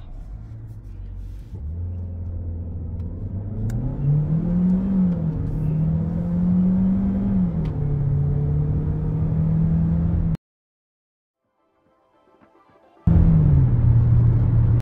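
Jaecoo J7 Inferno edition with a 1.6 turbocharged engine, all-wheel drive and 7-speed dual-clutch transmission, accelerating hard from 0 to 100 km/h: a loud, steady engine drone rising in pitch through gears, breaking off into silence before resuming loudly.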